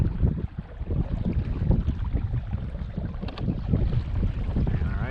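A homemade trolling motor drives a kayak during a speed test, its low steady hum mixed with water wash and gusty wind buffeting a nearby microphone.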